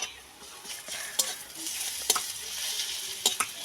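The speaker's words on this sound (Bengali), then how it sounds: "আমি রসুন বাটা দিয়ে দেবো।" Garlic paste and onions sizzle in hot oil for a meat curry, a steady frying hiss broken by several sharp scrapes and taps of a spoon stirring the pan.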